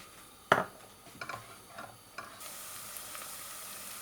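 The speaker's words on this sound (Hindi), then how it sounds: "तो अब इसमें ये जो ओनियन है वो डालेंगे, बिस्मिल्लाहिर्रहमानिर्रहीम। और इसको थोड़ा ब्राउन करते हैं" Onions frying in oil in a pan and being stirred: a sharp utensil clink, then several scraping stirs, with a soft sizzle that swells toward the end, close and quiet.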